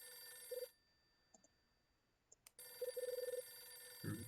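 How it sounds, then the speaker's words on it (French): A telephone rings in the video game Hotel Dusk Room 215, sounding as quick electronic bursts of trilling rings: one short burst, a pause with faint ticks, then a longer rapid run over a steady tonal background. "Le téléphone sonne."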